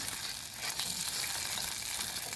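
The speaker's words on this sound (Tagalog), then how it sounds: "pinaprito ko na siya ngayon. May konti lang siyang mantika." Breakfast frying in a pan with only a little oil, a steady dense sizzle that stays loud and close throughout without a break, no speech over it.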